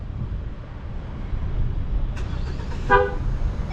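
A Mahindra XUV700 sounds a short horn toot as it starts by remote, a single distinct honk heard from outside against a quiet background.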